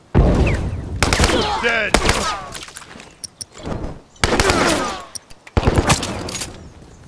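Rifle gunfire erupts in bursts of rapid shots during a firefight in The Last of Us, loud and close, with shouted voices between volleys.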